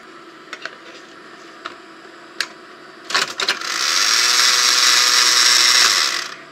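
A National NV-5130 EIAJ-2 cartridge VTR mechanism clicks a few times, then rattles with a brief ratchety burst before a steady mechanical whirr runs for a few seconds and stops, close with no talk.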